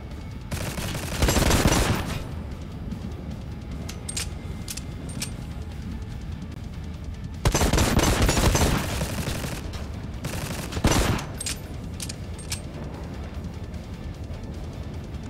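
Gunfire in the video game Necromunda: Hired Gun, with dense bursts of rapid shots rising and falling over a steady rumbling game backdrop, no talk.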